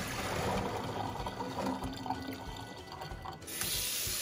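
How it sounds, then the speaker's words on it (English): Soaked pinto beans poured into a colander and rinsed under running water, giving a steady rushing splash with some shifting and rattling, then a brief pause before the flow resumes. "so you just dump them right in your colander."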